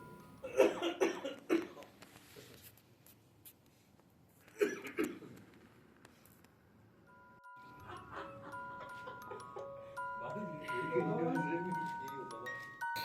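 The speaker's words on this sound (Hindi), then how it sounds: "जैसे कि खांसी आ जाना" A few sharp coughs come early, with a couple more a few seconds later, amid people talking and laughing in a podcast studio.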